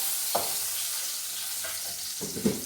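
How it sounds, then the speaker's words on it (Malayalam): Curry leaves and mustard seeds sizzling in hot oil, giving a steady close crackle with a few brief scraping stirs. "അതിൽ കുറച്ച് കറിവേപ്പിലയും കൂടി ഇട്ടു. കടുകും കൂടി ഇട്ടു."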